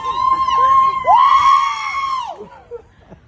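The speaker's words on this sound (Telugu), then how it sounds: "అయ్యో వదిలి భయంలో అరుస్తుందా, ఎక్సైట్మెంట్ లో అరుస్తుందా?" Several people scream loudly and continuously on a giant swing ride, with shrill, wavering, rising and falling cries that fade out toward the end, over a busy outdoor background.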